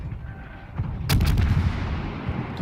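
A heavy boom from the guns of a Tier 3 Russian cruiser, the Bogatyr, in the naval video game World of Warships, followed by a rumbling low tail, loud and close.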